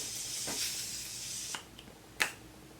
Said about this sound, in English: I'm gonna set my spray using the Morphe Mattifying Continuous Setting Spray.